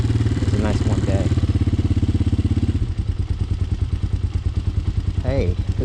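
Engine of an inexpensive motorcycle bought online idles on its newly installed carburetor, a close, steady, rapid thumping pulse throughout, with brief voices heard over it.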